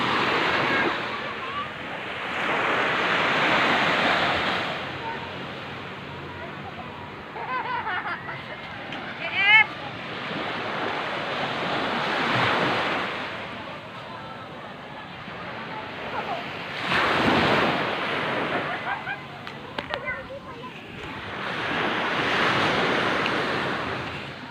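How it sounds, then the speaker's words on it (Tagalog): Sea waves roll onto a fine-sand beach in repeated broad surges of surf with wind buffeting the microphone, while someone talks intermittently over them. "Papalapit na ako sa dagat."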